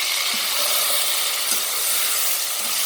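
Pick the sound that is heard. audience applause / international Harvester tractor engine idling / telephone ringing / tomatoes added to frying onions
tomatoes added to frying onions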